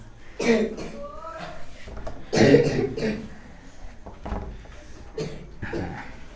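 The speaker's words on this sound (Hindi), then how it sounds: "खांसी कर लो बढ़िया से खांसी कर लो।" Several loud, harsh coughs in short bursts, mixed with throat clearing and some speech-like vocal sounds nearby.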